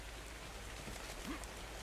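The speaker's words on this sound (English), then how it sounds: "The rain falls all around me." Rain falling in ARK: Survival Evolved, a soft, steady patter heard faintly and evenly throughout, with no voices over it.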